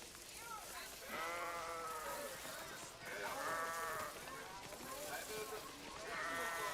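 Sheep in the video game Athena Crisis bleat repeatedly in wavering, drawn-out cries that come in several bursts, with a faint background hum.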